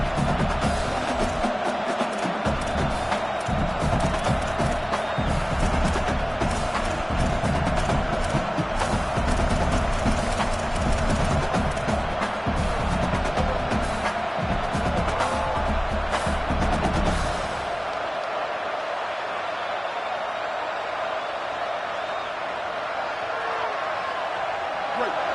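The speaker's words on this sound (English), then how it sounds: "The crowd getting behind this defense as they try to get a stop in the red zone." Stadium crowd noise from an NCAA college football video game swells into a sustained, dense roar of cheering for most of the stretch, then falls away sharply near the end, leaving quieter background ambience.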